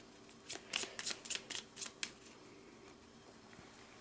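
Cards drawn and shuffled from a deck while playing the Machina Arcana board game, a quick run of soft close riffling flicks followed by quiet.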